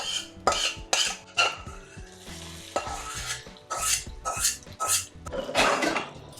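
Tempering of mustard seeds, dried red chillies, curry leaves and asafoetida added to a pot of Mysore rasam, giving a close sizzle with a series of spoon and metal pot clinks and stirring scrapes, no talking.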